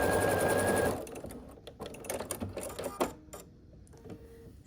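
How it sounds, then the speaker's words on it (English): A sewing machine runs steadily for about a second while stitching a long seam on a scrappy quilt block with half-square triangles, then stops, leaving faint fabric handling and small clicks. "And we'll sew down the length here."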